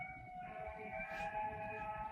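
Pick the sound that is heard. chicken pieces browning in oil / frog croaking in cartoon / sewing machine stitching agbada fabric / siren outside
siren outside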